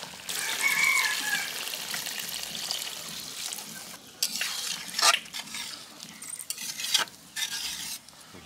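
A pot of desi rooster curry with potatoes is stirred, giving a steady wet sizzle broken by sharp scraping knocks of the spoon against the pot, close and fairly loud.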